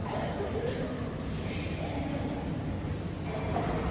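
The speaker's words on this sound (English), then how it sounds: "We're in the Kazan Metro now, one of the Kazan Metro stations" A Kazan Metro station with trains: a steady, loud rumble of a train filling the space, continuous throughout with no breaks.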